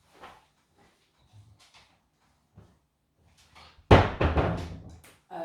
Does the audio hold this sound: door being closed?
yes